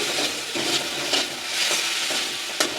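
Charred pointed gourd paste fries and is stirred in a pan, giving a continuous close sizzle with soft scraping swells and a few sharper clinks.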